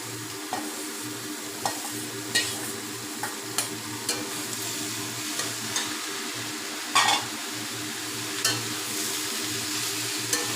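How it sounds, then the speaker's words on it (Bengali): Chopped ash gourd stir-frying with spices and turmeric in a pan: a steady, close sizzle broken by regular scrapes and taps of a spatula against the metal. "চাল কুমড়ো দিয়ে মশলার সঙ্গে একটু কষাতে হবে"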